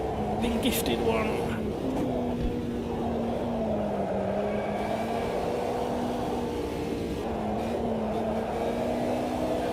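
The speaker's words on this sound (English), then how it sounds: "Did you hear me blipping the throttle then?" A small race car in a sim racing video game drones steadily with engine noise, and its pitch dips and rises briefly as the throttle is blipped. A person talks over it faintly.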